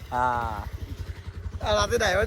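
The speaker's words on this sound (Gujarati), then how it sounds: "તો સુરભા નીકળી ગયા ભાઈ બાઇક લઈને." A motorcycle engine putters nearby in a steady, pulsing rhythm as the bike rides away, while people speak loudly over it.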